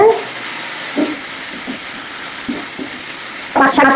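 Jute leaves frying in a pan give off a steady, close hiss and sizzle, with a few soft scrapes as they are stirred and a louder stir near the end.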